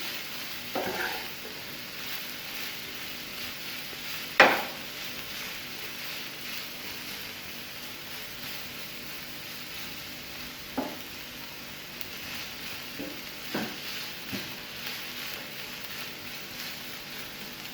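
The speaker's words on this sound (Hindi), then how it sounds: "और इसको तकरीबन चिकन के साथ 1 मिनट के लिए फ्राई करेंगे।" Chicken frying with vinegar-free sauce base in a pan over a low flame gives a quiet, steady sizzle, broken by a few sharp clinks and scrapes of stirring, the loudest early on.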